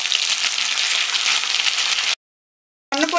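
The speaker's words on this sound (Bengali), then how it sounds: "আমি কিছুক্ষণ ভেজে নিয়েছি, এর মধ্যে আমি দিয়ে দেব কেটে রাখা উচ্ছেগুলো" Bitter gourd slices and potatoes sizzle steadily in hot oil, a dense close frying hiss that cuts out briefly and resumes.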